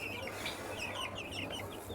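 Tiger breed chickens clucking at close range, several soft overlapping clucks and chirps over a steady low background hum.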